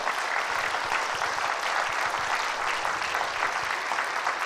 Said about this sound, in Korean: 따뜻한 박수로 환영해 주시면 감사하겠습니다